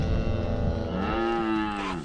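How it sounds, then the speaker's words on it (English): Cattle at a farm chute give a drawn-out low moo that rises and then slides down in pitch, close and loud over rustling farm background noise. "These are the famous dancing cows."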